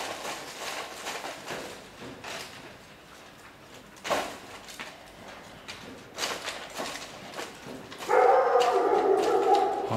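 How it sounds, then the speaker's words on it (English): Street dogs in Nablus bark in scattered yips and bursts at a middle distance, mixed with clattering street noise and a louder stretch near the end. "Oh yes, there's lots of dogs,"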